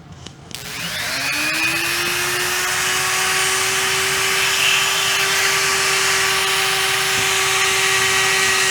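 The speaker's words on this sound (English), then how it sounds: "But I'm going to use the vacuum this time." A shop vacuum runs steadily and loudly close by for the whole stretch, starting with a quick spin-up whine, used while routing a Stratocaster-style guitar body to block its tremolo for a hardtail conversion.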